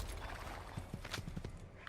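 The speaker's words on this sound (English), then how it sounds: "So here's a horse." Soft rhythmic hoof clops of a horse at a walk in the video game Assassin's Creed, faint and muffled under a steady background wash.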